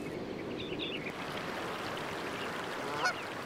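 The Lamar River rushing steadily where a bison calf crosses, a continuous mid-level water flow with faint bird calls and a brief splash or squeak near the end.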